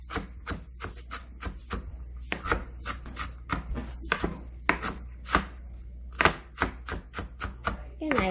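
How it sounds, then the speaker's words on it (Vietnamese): A knife chops food finely on a cutting board while making a lobster roll sandwich, a quick, uneven run of sharp close knocks, some louder than others, with no talking over it. "các bạn cắt nhỏ nhỏ nhỏ vậy là được ha, đâm nhỏ nhỏ nhỏ nhỏ vậy"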